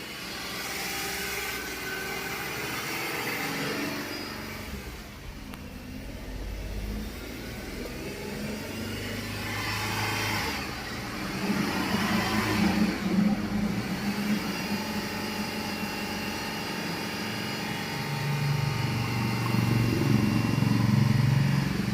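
Car engine revving up and easing off in long swells, a near, steady drone that grows louder toward the end.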